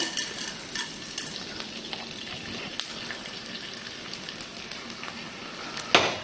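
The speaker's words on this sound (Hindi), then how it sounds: "तो ये भुन रहा है हमारा गोंद।" Edible gum (gond) roasts in a pan, giving a quiet, steady sizzle with scattered scrapes and clinks of a stirring spoon against the pan.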